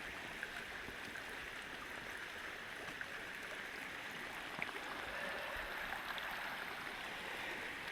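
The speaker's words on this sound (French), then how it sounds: "La rivière qui chante." A river stream flowing near a hot springs area, a steady broad rushing wash of water that stays constant and fairly loud throughout, with no voices.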